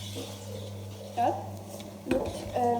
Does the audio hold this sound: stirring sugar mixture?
yes